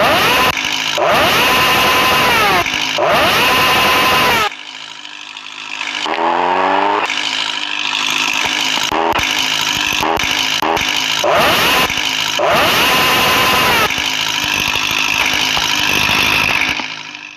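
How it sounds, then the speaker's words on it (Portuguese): In a motorcycle video game, a bike engine revs loudly and harshly in repeated bursts, pitch climbing and dropping between throttle blips, with a brief quieter lull partway through. "Se liga no ronco dessa moto aqui."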